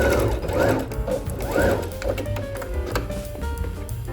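A sewing machine stitches checked fabric and piping onto a pajama top, running in short bursts of rapid, close mechanical clatter with brief pauses between runs.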